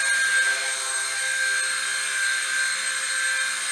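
A WLtoys V922 RC helicopter hovering nearby, its small motor and rotor giving a steady high-pitched whine with a constant tone throughout, heard alone.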